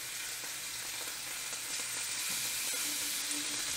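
A steak sears in a hot pan, giving a steady, close sizzle and frying hiss that runs unbroken throughout with no talking.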